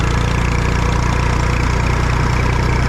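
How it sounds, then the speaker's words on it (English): A small tractor engine runs steadily and loudly while climbing a hill, its throbbing low rhythm holding constant under strain, close by with no voices. "the tone of the engine, the tone of the tractor and the revs is changing when we get up this hill."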